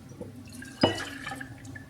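Strained lemon juice is poured from a small container into a jar, giving a soft, brief liquid splash and trickle against a light background hiss.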